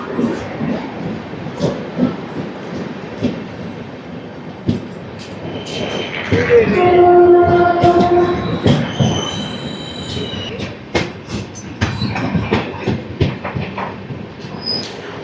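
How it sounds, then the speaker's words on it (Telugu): The Godavari Express (12728) rolls on after leaving Khammam station on its Hyderabad to Visakhapatnam run, with loud wheel rumble and a stretch of shrill squealing wheels midway, followed by sharp clacks. "మనం వచ్చేసరికి ఖమ్మం నుంచి స్టార్ట్ అయిపోయాము 9:28కి."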